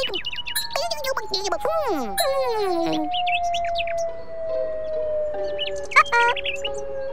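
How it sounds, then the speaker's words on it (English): Cartoon birds chirp and tweet in quick, bright sweeping calls, loud and close, clustered early and again near the end, over a steady background tone with soft music-like ringing. "Birds attract Groovy's attention."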